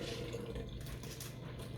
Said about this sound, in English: run a little cold water because they're still hot